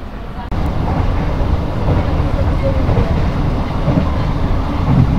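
A loud, steady rumble of an economy-class passenger train starting to roll along the tracks, close and continuous after a sudden onset, with a voice faintly underneath.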